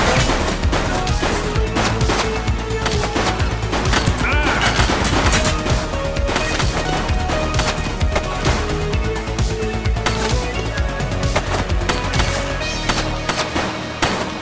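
Heavy, continuous gunfire from a bank robbery shootout in The Precinct on PS5, loud overlapping automatic bursts and single shots that fill the whole stretch with dense, relentless crackle.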